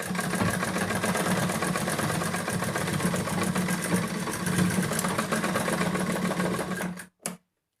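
A sewing machine stitching a newborn baby's shirt, running in a fast, steady mechanical whir for about seven seconds, then stopping abruptly with a short final clack, close and alone.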